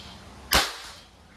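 A single sharp crack from a Crosman MagFire Ultra .22 break barrel air rifle fired once, a brief close report that quickly dies away.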